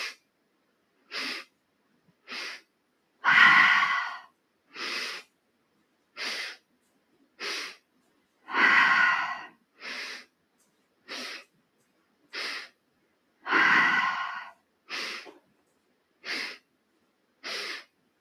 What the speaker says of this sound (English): Ready? Breathe in.